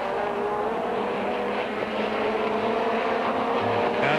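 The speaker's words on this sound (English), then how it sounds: "it looks as though Frank Sydner just hasn't got the horsepower to get past the Vauxhall" Touring race cars, including a Vauxhall and a BMW M3, howl past at Donington Park during a 1990 British Touring Car Championship round, with a loud, steady engine roar that continues for the whole stretch without talk.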